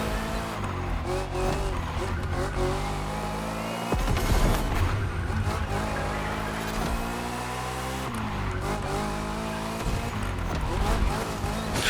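A Chevrolet Corvette Z06 Convertible drives in the racing game The Crew Motorfest, its engine droning and shifting loudly throughout, with a few sharp skids and someone talking over it.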